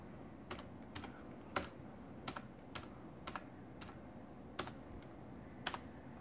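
Keystrokes on a computer keyboard tap out in irregular, sparse bursts, each click sharp and close against a quiet room hum, with no voices.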